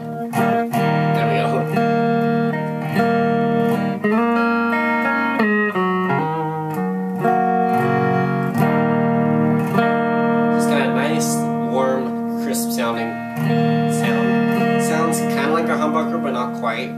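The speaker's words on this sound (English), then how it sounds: "So I'll take you through some clean tones first in the neck pickup." Custom Fender Stratocaster electric guitar played clean through the neck pickup, with sustained chords and picked single-coil notes ringing steadily and loud, with no voices over the playing.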